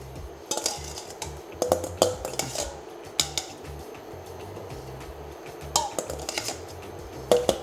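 A spoon skims veal broth in a saucepan for blanquette de veau, giving light, scattered clinks and scrapes against the metal over a low background murmur.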